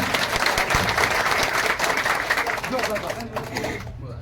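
A crowd at the opening of an election office in Raipura breaks into loud clapping, dense for a few seconds and then thinning, with voices talking over and after it.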